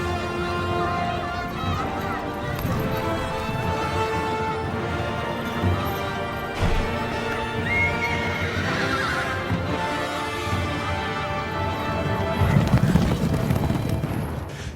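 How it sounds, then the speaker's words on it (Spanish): Horses neigh and gallop in a battle scene from The Lord of the Rings: The Two Towers, with steady hoofbeats under loud whinnies and orchestral music, plus brief shouting. "yo veo a ese Aragorn que se gira con el caballo a cámara lenta"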